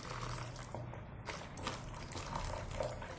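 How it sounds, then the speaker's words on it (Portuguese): Boiling water streams from a container into a thickened homemade detergent mixture, a continuous pouring gush with gurgling shifts close by and no talk. "Agora eu vou colocar água quente."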